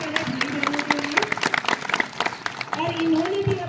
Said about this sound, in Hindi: हमारे बीच में तालियां बजा लीजिए